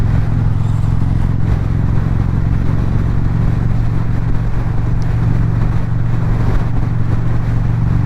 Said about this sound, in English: I think I'm liking the sound of this exhaust